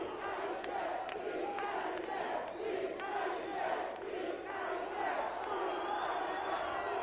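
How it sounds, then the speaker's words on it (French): A wrestling crowd shouts and jeers throughout a bout, a loud, dense roar of many voices that swells and surges continuously, with a match commentator audible over it. "Et que la foule crie disqualifié."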